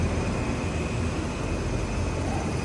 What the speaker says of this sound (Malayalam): ഗുജറാത്ത് മെയിലിൻ്റെ ലോക്കോമോട്ടീവ് വരുന്നത് WAP5 ആണ്.